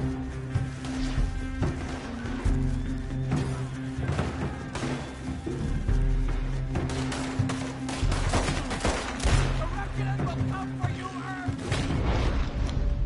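Dense, continuous gunfire from the Western video game Red Dead Redemption 2, loud rapid volleys and booming shots piling over one another with no break, under a music-like bed.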